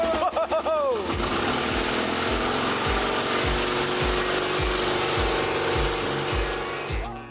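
An old engine on a farm, started by pulling a wound rope, coughs into life after a brief pull and then settles into a steady, loud, regular thumping idle, with a few voices talking briefly at the start.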